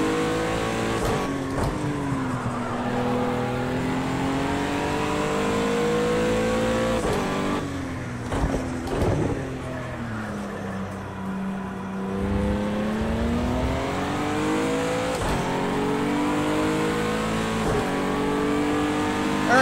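A twin-turbo six-cylinder race car in Project Cars 2 revving and shifting, the engine note rising and falling through gears with a steady harmonic whine, loud and continuous.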